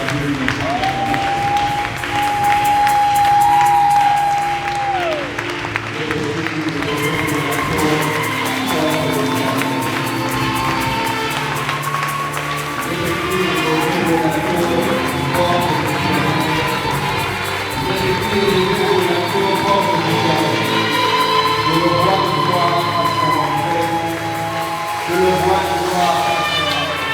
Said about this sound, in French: Est-ce qu'on peut offrir à Dieu une offrande d'acclamation?